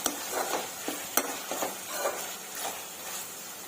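Tomatoes with turmeric stirred in a frying pan for chole masala curry, with repeated scraping strokes and soft clinks of a utensil over a low sizzle, close and steady.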